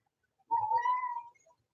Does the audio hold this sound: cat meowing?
yes